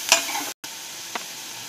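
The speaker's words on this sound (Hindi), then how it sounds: "अब हम इसमें प्याज डालेंगे। लो फ्लेम पर इसे बनाएंगे।" Onions frying on a low flame in a pan for mushroom soup, a soft sizzle with a couple of brief spatula clicks and a momentary dropout, close and quiet.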